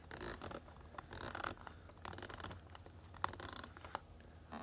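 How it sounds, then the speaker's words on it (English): The unidirectional dive bezel on an Invicta Pro Diver 17367 47mm stainless and gold-plated watch clicks as it is turned, several quick bursts of close, crisp ratcheting snaps with short pauses between turns. "Has a unidirectional dive bezel."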